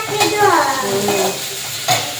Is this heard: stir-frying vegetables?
yes